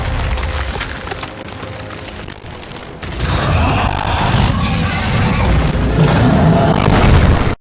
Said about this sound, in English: Frag out! Throwing frag!